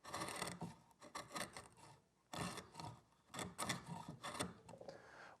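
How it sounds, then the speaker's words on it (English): A hand router plane takes light cuts across a scrap-wood sanding block, giving faint, close, rhythmic rasping strokes separated by short pauses. "that's a router plane, where now I can set the blade for light cuts and come across the workpiece"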